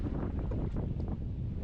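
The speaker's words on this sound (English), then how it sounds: "Windy, windy." Strong wind on the water during a fishing trip at Grand Isle, Louisiana, buffets the microphone with a constant low rumbling roar.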